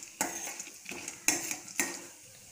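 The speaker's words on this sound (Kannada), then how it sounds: "ಲೋ ಫ್ಲೇಮಲ್ಲಿಟ್ಟು ಕೊತ್ತಂಬರಿ, ಕಡಲೆಬೇಳೆ, ಉದ್ದಿನಬೇಳೆ, ಜೀರಿಗೆ, ಒಣಮೆಣಸು ಇದನ್ನೆಲ್ಲ ಹಾಕಿ ಫ್ರೈ ಮಾಡಿಕೊಳ್ಳುವ" Coriander seeds, chana dal, urad dal, cumin and dried red chillies being fried and stirred in coconut oil over a low flame, with four sharp spoon-against-pan scrapes at a steady rhythm over a soft background.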